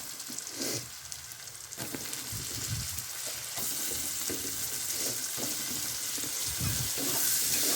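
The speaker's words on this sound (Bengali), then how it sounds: "এরকম হালকা করেই পেঁয়াজটাকে ভাজতে হবে" Onion and tomato frying in a pan for chicken chow mein: a steady, close sizzle with occasional soft stirring scrapes throughout.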